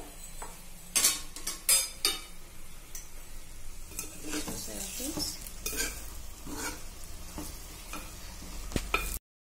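Eggplant masala fry cooking in oil in a pan, with close, loud scraping stirs and clinks of a utensil against the pan over a steady sizzle, and no voices.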